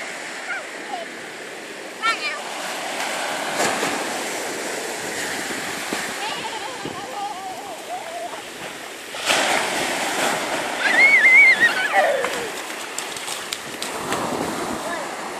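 Sea waves washing onto Hemsby beach in September, a steady broadband surf wash with swells building and breaking at intervals, partly under a child's and an adult's voices nearby.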